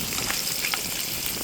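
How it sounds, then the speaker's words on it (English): Pork sausages frying in a pan at a campsite, a steady close sizzle and crackle with faint pops, no voices over it. "Got some pork sausages frying up with some Kraft Dinner."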